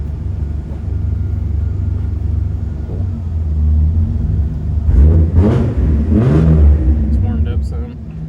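A one-owner 1986 Toyota Supra with a five-speed runs with a steady low engine rumble that swells as it pulls through the gears, with a few brief spoken words over the car noise.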